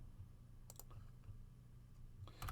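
A few soft, separate clicks of keys on a computer keyboard, faint and close, with a small cluster of taps near the end against a low steady hum.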